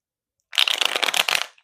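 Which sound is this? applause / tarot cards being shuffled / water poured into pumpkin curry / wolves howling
tarot cards being shuffled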